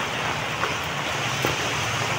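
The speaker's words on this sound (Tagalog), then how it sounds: "Lakas na ulan. Bahagi na rin ng bagyo." Dense, steady hiss of heavy typhoon rain pours continuously, with a low rumble underneath and a few faint drips standing out.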